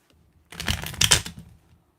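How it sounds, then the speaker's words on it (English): A deck of tarot cards is shuffled in one close, chunky riffle of rapid clicking flutters lasting about a second, with silence before and after. "Oh, that's a chunky shuffle."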